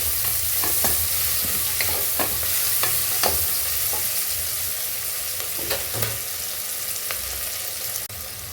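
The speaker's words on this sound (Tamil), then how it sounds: "அதையும் போட்டு கொஞ்சம் நல்லா ஃப்ரை பண்ணிக்கோங்க." Green chillies fry in oil, sizzling steadily in a pan while a utensil stirs and scrapes with occasional sharp clicks, close and continuous without voices.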